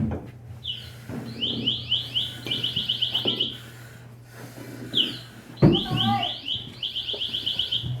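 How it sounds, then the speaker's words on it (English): Firefighter PASS device alarm sounding inside a building during a search drill, rapid rising chirping tones repeating in bursts with short pauses, loud and nearby, while people move and talk in the room. "we have a pass device sounding in the, it'd be the BD corner of the building"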